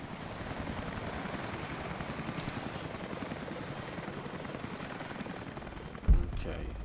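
Helicopter in the Tomb Raider video game, a steady rotor chop throbbing continuously under the game's soundscape, with a sharp thud near the end.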